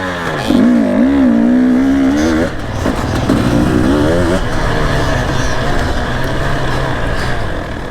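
An 85cc dirt bike engine revs hard on a muddy track, its pitch rising and falling in continuous loud strokes from close behind, with another engine droning underneath.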